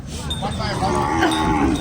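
Water buffalo low at a livestock market at Na Mueang Noi. A deep, drawn-out bellow carries loudly and close over a constant background of market noise.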